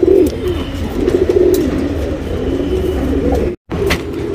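Fancy pigeons of an old lineage coo close by in low, repeated throaty murmurs that continue steadily over a busy loft background with scattered faint chirps.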